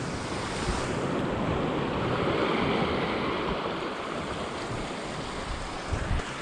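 Open sea swells and waves off arctic Norway, a continuous loud wash of surf with wind buffeting the microphone, no voices.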